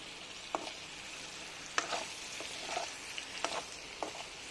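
Onions frying with pork, cumin, coriander, meat masala and red chilli powder, giving a soft, steady sizzle broken by several sharp stirring scrapes and clicks at irregular intervals.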